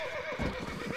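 Horse in the Red Dead Redemption 2 video game whinnying loudly and close, a drawn-out neigh over soft hoof clopping, with no talk.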